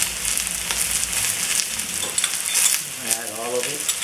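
Garlic stir-frying in a hot pan while fried rice is being made, giving a steady, close sizzle with stirring scrapes and crackles throughout, and no talking.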